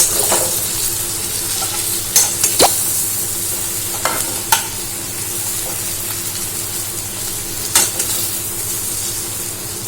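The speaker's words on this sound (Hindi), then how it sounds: "बीच में हम प्रन को ऐसे पलट देते हैं ताकि ये अच्छे तरह से फ्राई हो सके" Prawns fry in a pan for a prawn masala, giving a steady close sizzle, with a few sharp clicks and scrapes as they are flipped and stirred.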